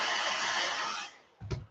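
A close, steady whooshing blow of a hair dryer drying a freshly painted fishing lure for about a second, then it cuts off, followed by a short low thump.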